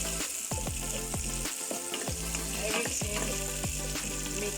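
Okra stew sizzles in a frying pan while a utensil stirs it, giving repeated scraping knocks over a constant hiss; a voice briefly speaks.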